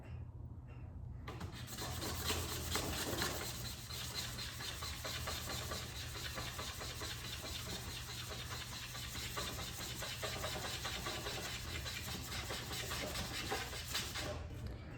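Continuous scraping and rasping of sandpaper worked by hand over wood while shaping a carved whistle, steady and fairly close, with a low constant hum underneath.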